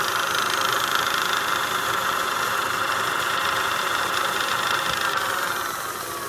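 Spindle of a Trak 3-axis CNC bed mill with hand wheels running at 1600 RPM in high range, a steady, loud mechanical whine and hum that holds constant and eases slightly at the end.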